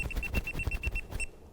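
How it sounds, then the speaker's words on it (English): An electrical tester meter gives rapid, evenly spaced high beeps, about a dozen in a quick run, close and clear, then stops abruptly. "now it turns red and it beeps in your face."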